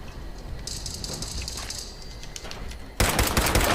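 Automatic gunfire in the Fallout 76 video game, a sustained burst of rapid shots over game background noise, ending in a loud, dense final volley.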